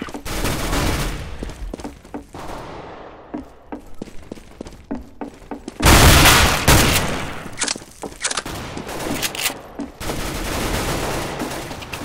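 A flashbang goes off midway through a Counter-Strike: Global Offensive round on the Inferno map, a sudden loud blast with a ringing wash, set among scattered nearby gunshots and footsteps before and after.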